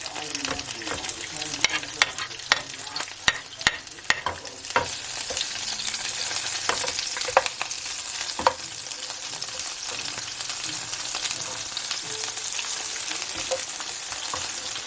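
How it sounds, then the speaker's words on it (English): Pimento seeds and Scotch bonnet pepper frying in hot oil, a steady close sizzle with scattered sharp crackles and pops through the first half, settling into an even hiss with no talking. "I'm just going to go ahead and put my garnish bit by bit into my oil"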